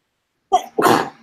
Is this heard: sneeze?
yes